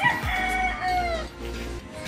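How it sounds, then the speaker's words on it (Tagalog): A rooster crows nearby during a walk to a workplace, one drawn-out cock-a-doodle-doo rising and falling, with faint clucks from other chickens around it. "mga manok"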